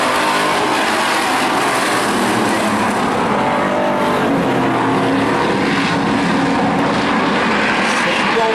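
Stock cars race around a short oval track during a Maine motorsports event, their engines roaring loudly and continuously as the pack passes, with a faint announcer-like voice under the din.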